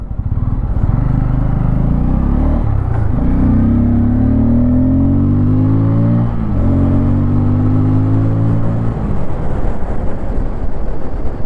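A 2024 Bajaj Pulsar N250 roadster motorcycle accelerates hard through first gear on an open road, its engine note climbing in loud, close rising sweeps with a brief dip between pulls, no talk over it.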